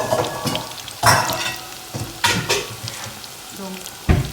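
Plantain slices fry in hot oil over medium heat, a soft steady sizzle broken by several louder bursts as the pieces are stirred in the pan.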